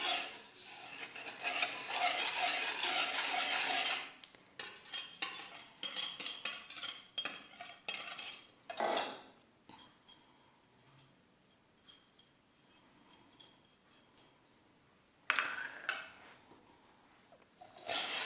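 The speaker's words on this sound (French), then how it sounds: "je mélange comme ça au froid" A utensil stirs sugar into a cold cornstarch mixture, briskly in a metal pan with scraping and clinking, pauses, resumes in short bursts, then falls quiet before a final brief flurry of stirring.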